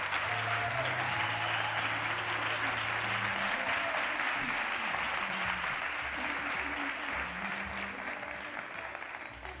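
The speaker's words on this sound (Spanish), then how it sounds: "un fuerte aplauso, fuerte aplauso, para José Antonio Fernández Bravo" Sustained audience applause for José Antonio Fernández Bravo at a conference talk, a dense, steady wash of many hands clapping that slowly tapers toward the end, with faint crowd murmur underneath.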